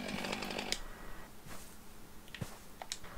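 Chainsaw in a forestry simulator video game on PS4, a faint buzzing motor hum with brief clicks and taps, quiet and steady.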